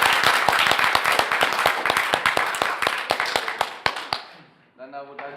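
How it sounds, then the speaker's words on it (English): An audience applauds Marianne and Jakob at an integration event, steady dense clapping that thins into a few scattered claps and fades, after which a voice begins to speak. "can I get a big round of applause for Marianne and Jakob?"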